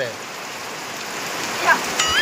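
Steady rain falls throughout as a dense, even hiss of drops hitting surfaces outdoors. A faint bird chirp and a couple of small knocks sit in the background.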